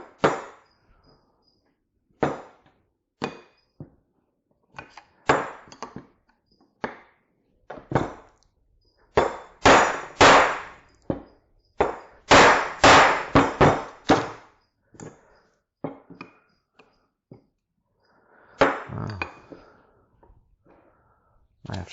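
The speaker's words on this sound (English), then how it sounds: "I'm actually going to use a screwdriver and a hammer to tap that lightly." Sharp metallic taps from a hammer on a screwdriver against a metal oil filter, coming in scattered single hits and quick clusters, some ringing briefly, with pauses and faint breathing between.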